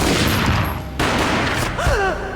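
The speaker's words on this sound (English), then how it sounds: "A gunshot boomed and she fell down in slow motion." Gunshot in the PC video game Max Payne: a sharp blast cuts through a dense wash of gunfire and action noise, with a brief tonal cry near the end.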